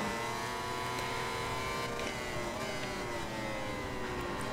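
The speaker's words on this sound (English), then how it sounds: "You can hear that Honda scream." A Honda motorcycle engine screams at high revs in the MotoGP 21 racing game, a sustained whining roar with shifting pitch and no talking.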